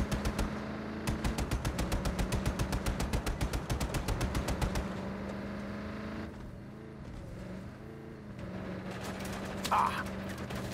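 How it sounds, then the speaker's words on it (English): Mounted gun firing in Just Cause 3, a fast, loud rattle of rapid shots for about four seconds, then fading into a lower rumble of vehicle and background noise. "Mounted gun live!"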